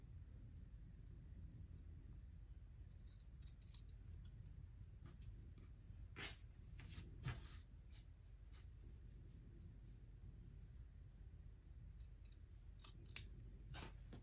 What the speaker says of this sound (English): I'm actually going to use my scissors. So first I'm going to cut along the sides.